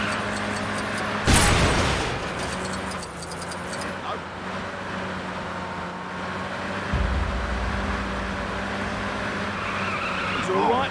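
Car in the LEGO Marvel Super Heroes video game driving with an engine drone, a sudden loud tire skid early on and further engine surges, with a voice speaking at times.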